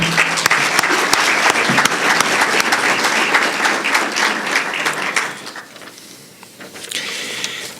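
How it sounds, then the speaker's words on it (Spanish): An audience at a conference applauds in recognition, a loud dense burst of clapping that fades after about five seconds, followed by scattered claps and a brief renewed swell. "pido un gran aplauso de reconocimiento"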